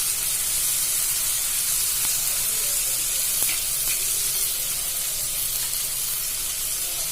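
Tomato and onion fry in a pan with a steady, close sizzle and crackling hiss that continues evenly throughout.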